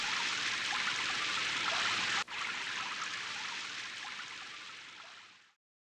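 Steady rain pours down in an animated cartoon, a dense even hiss that runs with one brief dropout partway through before fading out near the end.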